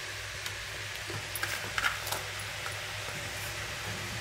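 Cabbage stir-frying in a pan for noodles, a steady faint sizzle with light scraping stirs scattered throughout, no voices.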